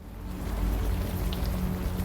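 Steady rain in the Unavowed video game, falling near a towering glass building and forming puddles: a continuous soft hiss and patter with a low rumble, even and uninterrupted throughout.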